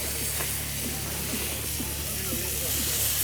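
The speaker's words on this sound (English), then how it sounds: "we got the bottom browning using the Camp Chef griddle" Roast beef browning on a Camp Chef griddle, giving a steady close hiss and sizzle throughout, with faint voices murmuring underneath.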